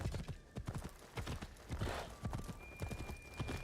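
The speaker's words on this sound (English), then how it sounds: "Let's grab the horse again." Horse hooves galloping at speed in Assassin's Creed Shadows, a quick, steady clip-clop rhythm pounding close and loud, with no talking.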